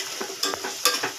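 Green chilies, mint and coriander leaves stirred in a hot pan for Chennai-style chicken biryani, a short close burst of scraping stirs over a soft sizzle.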